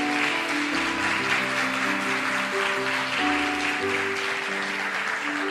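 A church congregation applauds loudly and continuously in a dense wash of clapping, with sustained keyboard chords ringing underneath throughout.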